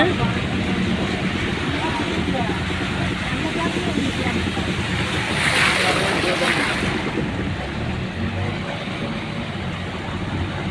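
Floodwater from heavy rain in Erode rushes steadily with a broad roaring hiss, mixed with gusty wind buffeting close by and a brief surge midway.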